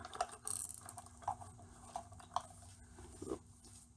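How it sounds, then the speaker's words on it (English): Spellbinders die cutting machine cranking craft material through its rollers, a quiet ratcheting mechanical whir with scattered clicks and small knocks at close range, no talking. "go ahead and cut with your die machine"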